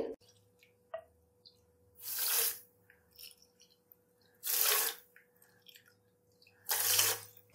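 Three cups of water poured over four cups of sugar for gulab jamun syrup, heard as three separate splashing pours a couple of seconds apart, close and moderately loud, with quiet kitchen background between them.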